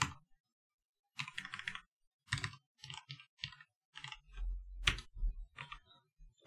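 Someone types on a computer keyboard in quick clustered bursts of crisp key clicks with short pauses between, close and fairly quiet, with a heavier thump near the end.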